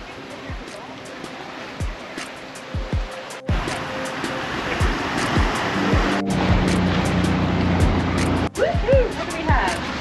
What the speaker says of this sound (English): We are in the middle of pretty much a storm right now. Strong winds, rain, incredibly big waves.